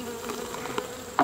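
Angry honey bees buzz during mite sampling of a heavily infested colony, a close, continuous agitated hum with individual bees darting near, ending in a brief louder bump.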